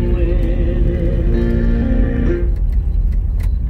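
AM radio playing inside a 1962 Ford Thunderbird, a loud steady tonal sound with sustained harmonic notes that cuts off partway, leaving quieter ticks and clicks at the end.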